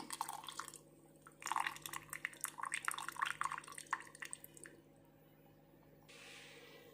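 Tamarind juice poured into a cooking pot while preparing a traditional basale curry, giving a wet dripping and splashing sound in bursts over steady low kitchen hum, then tailing off to quiet.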